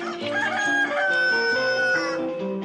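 In a Turkish TV advert, a chicken clucks and then crows at close range, loud and clear, with bright layered calls running across the whole moment.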